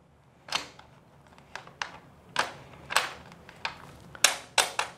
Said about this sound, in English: all we're simply going to do is turn the gear rack until both of these ratchet